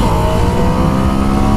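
A 2016 Ducati Scrambler Sixty2 motorcycle accelerates hard, its engine a loud, close, continuous roar that holds steady throughout.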